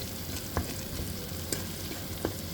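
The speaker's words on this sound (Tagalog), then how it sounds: "ginigisa ko po muna ito" Ingredients for judias blanca sauté in a pan, giving a soft continuous sizzle with a few sharp clicks from stirring at intervals, quiet and without speech.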